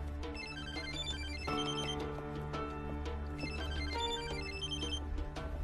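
A phone ringtone for an incoming call plays continuously, a repeating melodic electronic tune at moderate-to-quiet level, with no voices over it.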